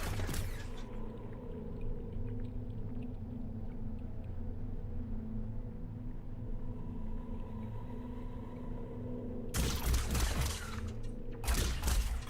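Gunfire against enemies in the sci-fi shooter Luna Abyss: a low droning ambience runs for most of the stretch, then two loud, sharp bursts of rapid shots crash in near the end.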